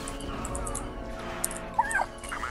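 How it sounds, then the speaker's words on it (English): Ewoks in the Star Wars Battlefront 2 video game let out small high squeaks and yips over a steady bed of game sound, brief and moderately loud. "that was the Ewoks, Brian."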